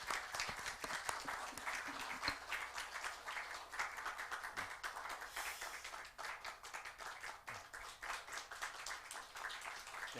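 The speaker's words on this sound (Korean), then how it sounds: "박수해 주시겠습니다." A church congregation applauds at an elder ordination service after a certificate is presented, dense sustained clapping for about ten seconds, full and steady with a slight dip midway.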